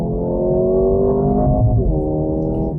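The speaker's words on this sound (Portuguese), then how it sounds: "Acelerando, saindo." Mercedes-Benz GLA 35 AMG launching hard from a standstill with the engine revving loudly and rising in pitch, with a brief dip partway through as it pulls away.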